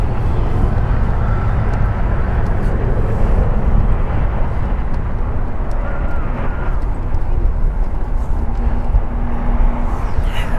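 A one-year-old Embraer E175LR airliner taking off from runway 25 right at Los Angeles International Airport, heard as a loud continuous engine roar from a distance, with wind buffeting the microphone.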